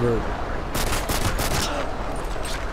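Machine gun fire in Modern Warfare 2 rattles in several rapid bursts over a constant noisy game background, loud and close.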